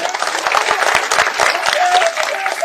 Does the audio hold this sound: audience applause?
yes